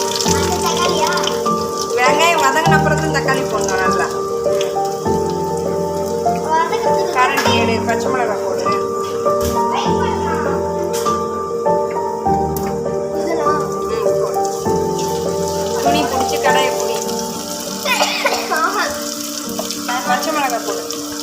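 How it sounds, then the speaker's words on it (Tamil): Cut green chillies sauté in a pan for fish curry, a steady close sizzle running under ongoing talking voices and a tonal background. "வெட்டின பச்சை மிளகாய் வதக்கிட்டேன்"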